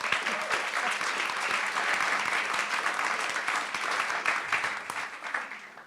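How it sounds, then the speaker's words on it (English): A college debate event crowd breaks into dense, sustained applause, loud and even for several seconds before tapering off at the end, no voices on top. "Let's clap for that."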